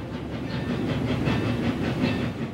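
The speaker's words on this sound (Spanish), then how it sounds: "un tren militar silbaba sobre sus rieles en la ciudad de Chihuahua" A military train rolls along its rails with a steady, rhythmic rumble and clatter at moderate loudness, heard on its own.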